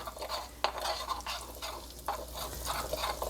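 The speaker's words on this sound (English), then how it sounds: "I will be roasting coriander powder" Coriander powder roasting in a pan while being stirred for Indian rajma (red kidney beans), giving soft continuous frying sizzle with repeated scraping strokes of a utensil against the pan, close and moderately quiet.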